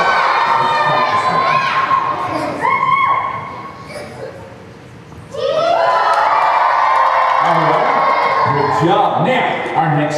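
A crowd of elementary school students at Ponca City Liberty erupts in loud, high-pitched cheering and shouting, dips briefly, then bursts into a second sustained round of whoops.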